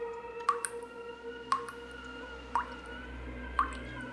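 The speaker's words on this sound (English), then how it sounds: "I woke up in the middle of the night to the sound of dripping water." Water dripping indoors at night, four distinct drops falling about once per second, each a sharp, clear plink over a quiet background hum.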